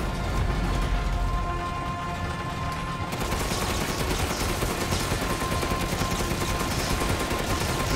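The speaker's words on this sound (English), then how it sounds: "Keep shooting." Steady, dense gunfire at the Mother Miranda boss in Resident Evil Village keeps up for the whole stretch and gets louder and busier partway through, with no voices over it.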